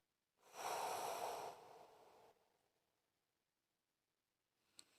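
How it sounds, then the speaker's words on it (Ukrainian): A single long, forceful breath out through the mouth, loud at first then tapering off into near silence, followed by a faint soft click. "Робимо ще один видих через рот."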